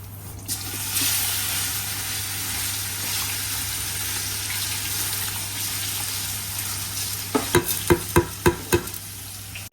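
Rice going into a pot of salted water at a rolling boil for fish biryani: a steady bubbling rush throughout, followed by a quick run of sharp clinks and knocks near the end.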